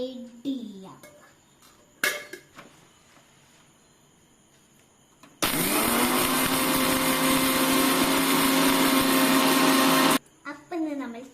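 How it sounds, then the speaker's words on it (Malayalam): A mixer grinder whirs loudly for about five seconds while blending cold coffee with sugar and hot water, a steady high motor drone that stops abruptly; a voice and kitchen clatter come before and after. "എന്നിട്ട് നമുക്ക് വീണ്ടും ഒന്ന് ഗ്രൈൻഡ് ചെയ്ത് അടിച്ചെടുക്കാം"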